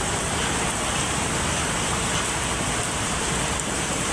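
Sudden heavy rain pours down as a steady, dense hiss of drops hitting surfaces, loud and unbroken throughout with no voices.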